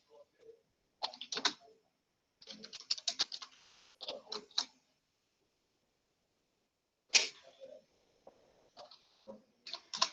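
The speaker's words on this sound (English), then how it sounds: "I'm writing in chat box." Someone types on a computer keyboard in quick, quiet clusters of clicking keystrokes separated by pauses, close up and alone.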